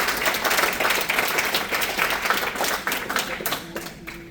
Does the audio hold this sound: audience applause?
yes